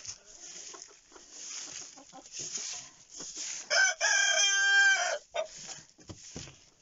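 Village chickens and a rooster in a yard: scattered clucks and short calls are followed by one loud, drawn-out crow at close range, then a few more clucks.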